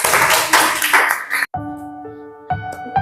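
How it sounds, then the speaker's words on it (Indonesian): A short burst of clapping from a classroom group breaks out and cuts off abruptly, followed by ringing tonal chimes or pings. "beri aplaus untuk kelompok 1"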